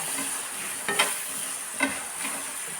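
Tomato and onion frying in coconut oil for a curry leaf chicken gravy, with a steady close sizzle broken by two soft stirring scrapes.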